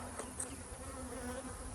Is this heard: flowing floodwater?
no